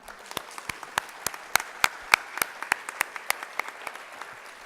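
A small crowd claps steadily at a school PTA Founder's Day event, sharp individual claps standing out in an even rhythm that tapers off toward the end.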